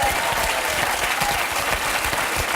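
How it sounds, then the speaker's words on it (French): Loud, sustained applause from a television studio audience, a thick wash of clapping that stays full and steady throughout, with only faint crowd murmur beneath it. "d'abord on l'applaudit"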